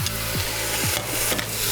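Meat sears in an Instant Pot with a loud, steady sizzle and a few rough scraping strokes of a spoon against the pot, heard up close with no one speaking.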